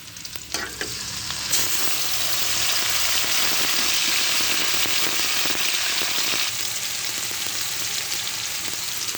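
Onion paste sizzles and fries loudly in hot oil in a pan while cooking a spicy tilapia fish curry, a steady crackling hiss that rises sharply after a quieter start and continues alone without talk.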